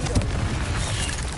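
A Confringo blasting curse exploding in Hogwarts Legacy, a loud close booming burst with a rumbling low-end tail filling the short moment, with no talk.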